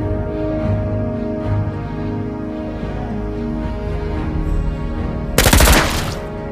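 Clint, the Mobile Legends hero, fires a short burst of rapid gunshots near the end, after a stretch of steady tonal game music and ambience.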